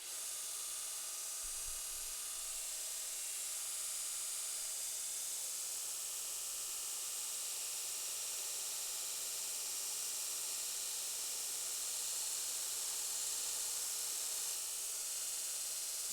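Belt grinder fitted with a fresh abrasive belt, a steady broadband hiss and whir holding constant and fairly loud for the whole stretch, with no voices.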